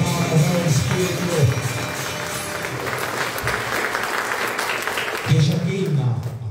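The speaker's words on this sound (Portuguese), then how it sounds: "Uma salva de palmas ao Espírito" Congregation clapping during a Sunday Catholic Mass, a continuous wash of applause under a singing and speaking voice with music.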